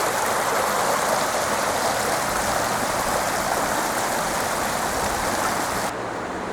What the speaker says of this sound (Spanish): Otro arroyo que desemboca en el río.